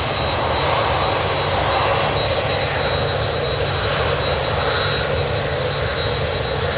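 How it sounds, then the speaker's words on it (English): A Ryanair Boeing 737-800 jet departing Manchester Airport roars steadily and loudly throughout, a continuous broadband engine rush with no voices over it. "we've got the Ryanair 737-800 with the split skin tires going out"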